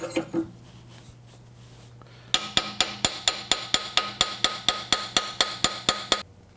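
After a quiet stretch, a steel hammer peens over a pin on a vise handle with a rapid, evenly spaced run of about sixteen sharp metallic blows, close and loud, then stops.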